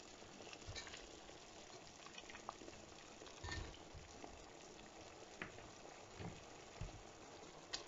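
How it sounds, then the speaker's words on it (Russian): Steady bubbling and hissing of a pot of paprika sauce on the boil in a kitchen, with occasional soft pops and clinks, fairly quiet and continuous throughout. "Так, у меня все это кипит."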